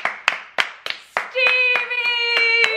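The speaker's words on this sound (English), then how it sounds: "everybody give a round of applause for" A few people clap at home in a slow, evenly spaced rhythm of sharp hand claps, then a voice cheers loudly while the claps continue.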